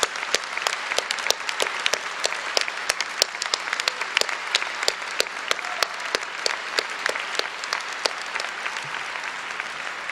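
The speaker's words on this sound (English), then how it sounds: "now let's give them a rousing round of applause" Steady applause fills a law school commencement hall as the crowd honors graduates' families, with many sharp individual claps over a continuous bed of clapping that holds at an even level for about ten seconds.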